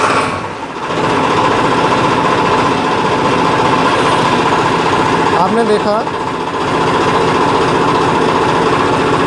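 Farmtrac tractor diesel engine running at a steady idle with a continuous rumbling drone throughout, a brief dip near the start; someone talks over it.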